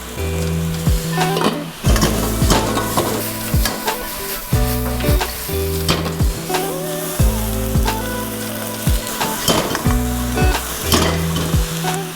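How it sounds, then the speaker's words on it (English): Vegetables stir-fried in a hot wok with egg-free noodles cook close up, a steady loud sizzle broken by repeated bursts of stirring and tossing with clanks of the utensil against the pan, no talking. "We're just going to quickly wok fry this, keeping it nice and crunchy."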